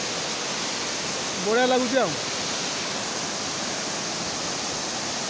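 Budingalu waterfall, a constant loud broadband roar of falling water, with a person's voice briefly speaking over it.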